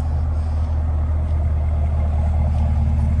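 A 2023 Camaro ZL1 1LE with carbon fiber trim idling steadily, a deep, even low rumble held at constant level throughout, with no talk over it.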